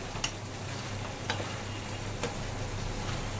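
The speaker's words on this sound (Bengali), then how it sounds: "গরম মশলা গুঁড়ো দিয়ে দিচ্ছি এবার ভালো করে মিক্স করে দেব" Chicken keema being stirred in a pan with garam masala powder, a soft steady sizzle of frying under a few sharp clicks of the spoon against the pan, quiet and close.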